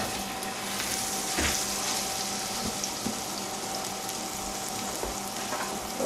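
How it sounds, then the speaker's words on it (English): A rack of lamb sears in a pan of hot butter and oil, giving a steady close sizzle with a few soft clinks and bumps, and no voices. "What we're going to do now is just sear it off on all sides"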